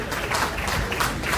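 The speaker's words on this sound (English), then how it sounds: "please give me a round of applause" A crowd at a formal public gathering with speeches claps in a short, dense burst of applause, steady and moderately loud throughout.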